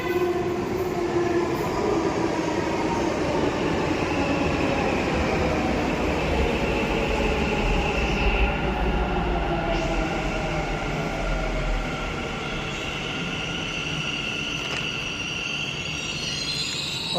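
A Bengaluru metro train arrives at the platform with a steady, loud rumble of wheels and carriages that rises and settles over about seventeen seconds, with no speech.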